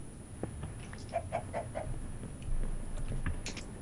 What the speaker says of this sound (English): I think that means the chicken's name is Juan Carlos